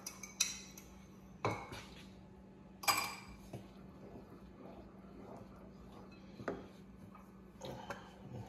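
Stirring Portuguese rice pudding (arroz doce) in a pot: a spoon scrapes and clinks against the pot with soft scattered knocks and a few sharper metallic taps, close and fairly quiet, alone.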